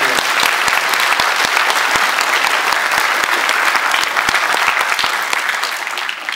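An audience applauds after a parish Passion play, giving a loud, dense and continuous clapping from a crowd that tapers slightly at the end.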